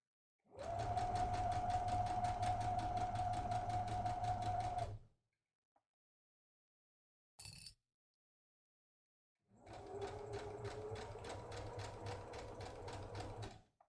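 Sewing machine stitching a drawstring project bag in two steady runs of about four seconds each, separated by a pause with a brief click, loud and close with no talking.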